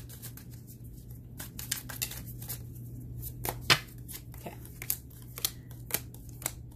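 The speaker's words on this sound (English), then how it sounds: "Shuffle one more time." Tarot cards are shuffled up close, giving a quick run of crisp riffling snaps and flicks at an uneven rhythm, fairly quiet over a low steady hum, with no talking.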